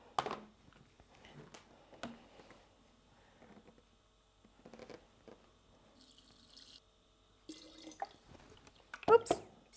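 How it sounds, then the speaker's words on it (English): Water is poured into a Thermomix bowl while making pumpkin and bacon risotto, heard as short, faint trickles and drips between clatter and handling noises, close by. "We're going to add water."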